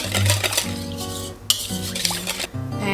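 A spatula scrapes cheese and a dash of cream around a mixing bowl for Southern baked mac and cheese, with steady clinking and stirring over constant background music.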